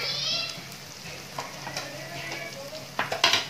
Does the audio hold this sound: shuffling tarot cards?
no